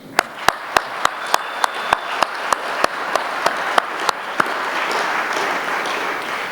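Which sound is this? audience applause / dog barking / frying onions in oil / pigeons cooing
audience applause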